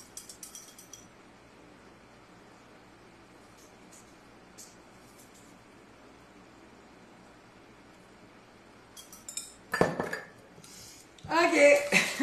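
Salad being mixed with sauce in a bowl: a low steady hiss gives way to clinking utensils scraping and tossing against the bowl near the end, close and moderately loud.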